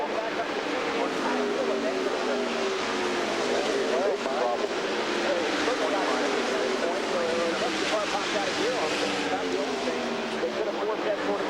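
IndyCar race cars drone and whine past at the 1999 Indy 200, their engine pitch rising and falling over a constant roar of track noise, with commentators talking over the top.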